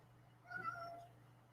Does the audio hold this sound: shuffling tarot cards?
no